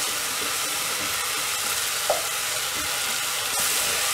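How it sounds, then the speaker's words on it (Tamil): Tomatoes and chunks of elephant foot yam fry in a pan for a spicy bean curry, giving a steady, even sizzle throughout with one faint clink of a utensil partway through and no talking. "தக்காளி நல்லா வதங்கின உடனே கர்ணக்கிழங்கு ஆட் பண்ணிடலாம்"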